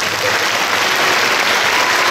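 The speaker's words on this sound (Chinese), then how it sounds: "请你借用你们的双手给他们一个掌声好不" Loud, steady applause from an audience at a junior high school graduation ceremony, a dense uninterrupted clatter of many hands clapping for the graduating class.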